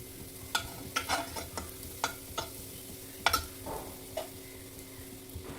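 Beef liver masala sizzling in a pan while being stirred, with a steady, soft frying hiss under a series of sharp scraping clicks from the spoon against the pan, heard close without speech.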